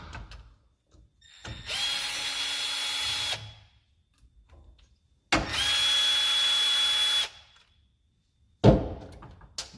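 Cordless power drill backing screws out of an LT1 throttle body's idle air control motor: two sustained whirring runs of about two seconds each, close and loud, separated by quiet handling noises, plus a final brief burst.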